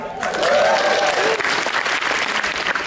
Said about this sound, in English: Let's hear it up for Guy